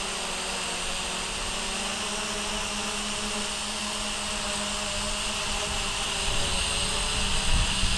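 A Hubsan H507A+ drone hovers and descends nearby, its propellers giving a constant loud high-pitched whine with a steady tonal hum and no pauses.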